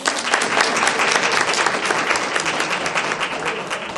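Sustained applause from an audience at a student leadership luncheon, a dense steady wash of many hands clapping at close range for the full stretch, with no clear voices on top.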